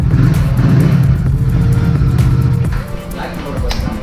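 A used superbike's engine runs loud and close, a deep throbbing exhaust note that holds steady and then eases off slightly before swelling again, with a voice talking over it.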